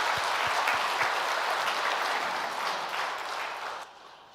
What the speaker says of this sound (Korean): 우리 한번 박수를 드립니다